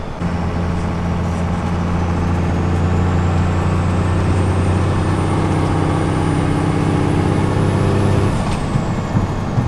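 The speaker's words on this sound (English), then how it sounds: "when you get into boost, you can really hear the turbo go whoop, whoop, whoop, whoop" A 2nd Gen Cummins diesel truck pulls under boost, its loud engine drone joined by a rising turbo whistle that climbs steadily for several seconds and then drops off sharply as the boost releases.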